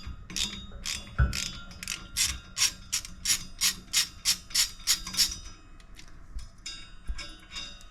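A hand ratchet works a torqued bolt loose on a debris loader during impeller and liner replacement, a firm initial crack followed by a rapid, regular series of about a dozen metallic clicking strokes, close and clear.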